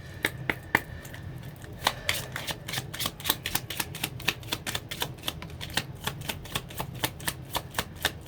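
Archangel oracle cards are shuffled by hand in a quick, steady run of crisp clicks and riffles, close and clear, with no talking over it.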